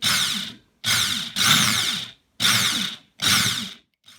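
Loud, close drilling into acoustic guitar wood for an endpin jack in five short bursts of whining motor and grinding, each separated by a brief silence.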